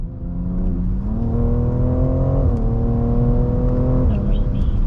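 A lifted, stretched BMW M3 in sport mode accelerates, its engine note climbing steadily through a gear, dipping briefly at a shift and rising again, loud and close from inside the car with no talking.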